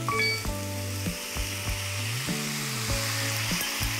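Sauce for yakisoba hits a hot pan of noodles, cabbage and meat, a steady sizzle broken by repeated scraping clatters of stirring, close and alone.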